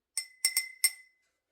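A utensil taps and clinks against a glass container while a room spray mixture is gently stirred, four quick bright chinks with short ringing tails, close and alone.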